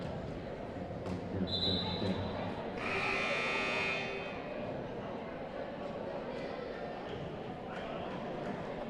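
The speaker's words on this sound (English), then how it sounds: "The buzzer sounds as it is time to start the second quarter here with Storm Sports." A basketball game buzzer sounds loud and near for about a second during a boys' high school game, over steady crowd noise and court chatter in a gym.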